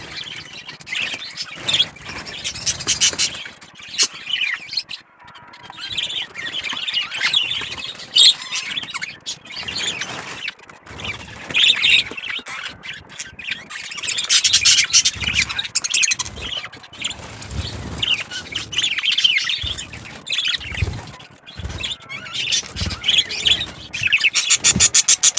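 A breeding colony of parakeets chirps and squawks nonstop, with dense overlapping calls that come in bursts and pulses, close by and with no voices.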